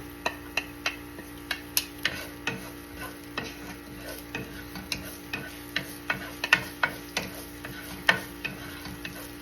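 Garlic browning in a hot pan, a steady sizzle broken by sharp regular clicks of a utensil scraping and stirring, close and moderately loud, with no talking.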